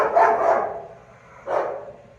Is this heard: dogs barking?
yes